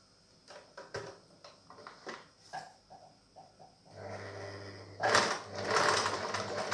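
A sewing machine stitching a bar tack low on a pair of trousers near the zipper, heard as short bursts of whirring after scattered handling clicks, ending in a louder continuous run up close.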